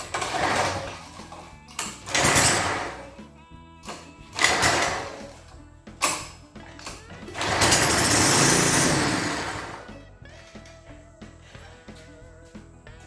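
A Tecumseh engine on a lawn edger, failing to start, is cranked over and over with a pull cord, each pull a short ratcheting rasp, and it sputters briefly without catching.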